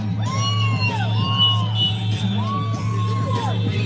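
A protest crowd at an immigration raid demonstration yells and whoops in rising, repeated calls over a steady low hum, voices mixed and loud throughout.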